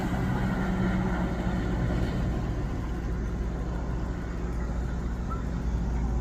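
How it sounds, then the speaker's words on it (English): Sea-Doo RXT-X 300 jet ski run at full throttle, a steady, loud engine roar holding constant throughout with a broad rumbling drone and no voices. "he's giving the ski a couple of real full throttle runs"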